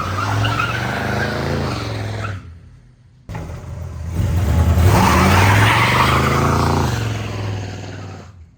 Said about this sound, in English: That thing does a burnout.